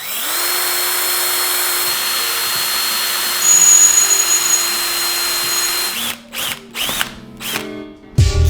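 A power drill runs at steady high speed for about six seconds while drilling a hole during a motorcycle build, then stops and gives several short, loud bursts close by.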